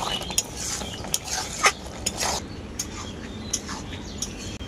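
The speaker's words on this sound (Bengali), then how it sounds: "গুঁড়ো গরম মশলা আর চিনিটা দেওয়ার পর আবারও কিছুক্ষণ নাড়াচাড়া করে নিচ্ছি" Prawn and bottle gourd curry being stirred in a pot, a spoon scraping and clinking against the metal in irregular, close taps and scrapes over a soft background hiss.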